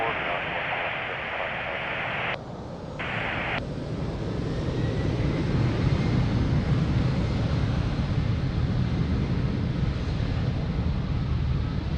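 A jet taking off from runway 02 at Lisbon Airport, a loud continuous engine roar that swells and holds steady, heard from a distance with wind buffeting the microphone and a brief radio break near the start.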